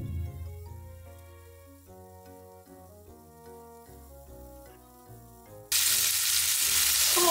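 Komatsuna greens hit a pan of browned chicken with a sudden loud, hissing sizzle near the end, following a stretch of steady background music with no frying heard.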